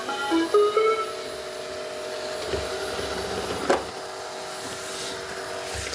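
A Shark AV2501S robot vacuum returns to its dock with a steady, faint motor whir and soft brush hum, punctuated by a few light clicks and bumps as it turns and repositions, with no talk.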